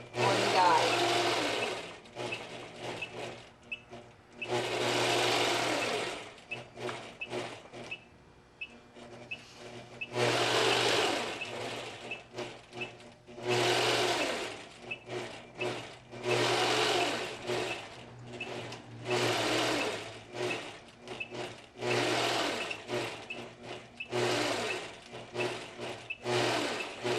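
A sewing machine quilts cross-hatch lines at 1/4 inch spacing in repeated whirring runs of stitching separated by short pauses, with soft rustling between bursts.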